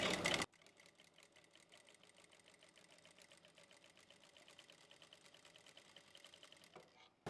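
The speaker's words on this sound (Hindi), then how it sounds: "धागे को लॉक करने के बाद अब हम इसको इस तरीके से रखेंगे और इसके साथ साथ से हमें मशीन को चलाते जाना है।" A sewing machine stitches round piping in a steady, quiet run of fast mechanical ticks, starting after a brief louder noise and continuing alone.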